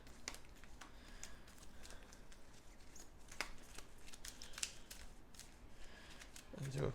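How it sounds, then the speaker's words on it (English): Cthulhu: Death May Die game cards are given a quick hand shuffle at a tabletop, with faint, soft snaps and riffles scattered over a low, hushed background. "shuffle them all together"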